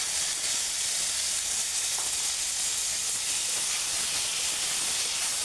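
Dry red chillies and five-spice seeds sizzle in hot oil in a kadai for a chutney, giving a bright, steady frying hiss at moderate volume with no talking.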